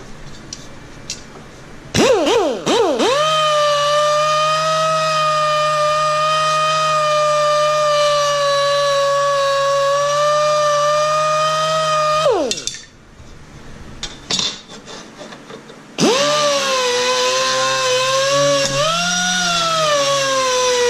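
A steady high-pitched mechanical whine of a pneumatic angle drill running at about 50 psi lasts about ten seconds, stops, then starts again and keeps going.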